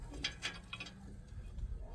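Bolts being tightened on the front brake caliper of a 2001 Ford Expedition, a few quick close ratcheting clicks in short bursts, faint and with no talk.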